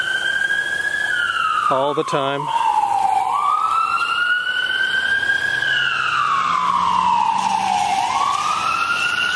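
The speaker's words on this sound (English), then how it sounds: "sirens are blaring" Emergency vehicle sirens wail through a city park, loud rising and falling tones that sweep up and down in slow cycles. A brief burst of speech comes near the start.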